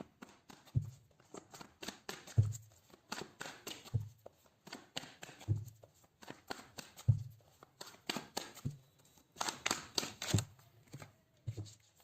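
Tarot cards being shuffled in a quiet room, with repeated soft riffling bursts and light card slaps at an irregular pace, close and faint, with no talk.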